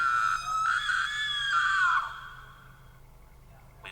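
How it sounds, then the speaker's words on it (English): A person screams in a scary animation, a loud sustained high-pitched shriek that slides downward and fades after about two seconds, heard alone. "all of a sudden my date screamed."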